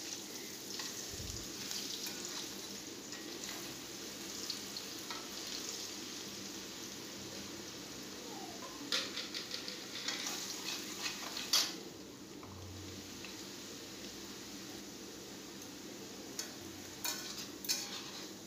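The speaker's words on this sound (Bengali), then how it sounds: "পেঁয়াজটা একটু লাল লাল করে ভেজে নিব" Onions frying in a generous amount of oil in a pan for a koi fish curry, a soft continuous sizzle with occasional spatula scrapes and light clinks, fairly quiet and close.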